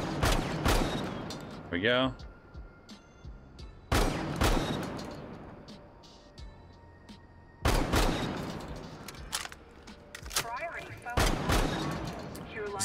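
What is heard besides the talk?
Ela's shotgun firing in video game Rainbow Six Siege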